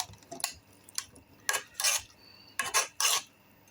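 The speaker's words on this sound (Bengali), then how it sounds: "তো নেড়ে চেড়ে মিশিয়ে দিবেন এটাকে" A spoon scrapes and knocks against a pot while small fish are stirred and mixed with soybean oil, giving several short metallic clinks and scrapes close by in a quiet room.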